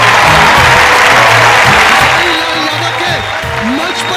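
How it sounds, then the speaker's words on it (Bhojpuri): A crowd at a stage show applauds loudly for a singer invited on stage, with dense, continuous clapping and crowd noise filling the whole moment. "रउआ लोग तनी सा जोर से ताली बजाई।"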